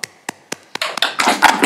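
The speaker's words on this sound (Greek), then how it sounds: "Εγώ θέλω ένα μεγάλο χειροκρότημα" Students and teachers applauding during a video conference: a few sharp, separate claps at first, then building into a thicker burst of clapping from several people over a compressed online connection.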